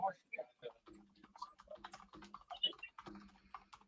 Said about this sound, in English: typing away on something over there